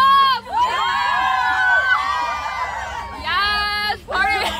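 Excited crowd with children shouting and whooping at a running race, loud and close, with cheering in bursts and brief pauses, and voices mixed throughout.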